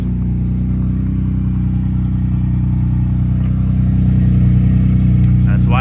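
A turbocharged Acura NSX idles with its exhaust valves closed, a low, steady, fairly quiet engine rumble that swells slightly near the end, heard up close with no talking.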